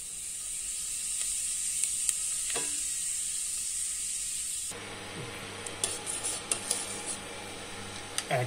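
Whole cloves crackle in hot oil under a steady high hiss, then cumin seeds drop in and the sizzle turns busier with sharp pops and spatters, close up with no talking.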